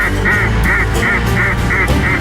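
Ducks honk and quack in a steady rhythm of repeated calls at a duck hunt, several bursts close together and fairly loud over a constant outdoor background.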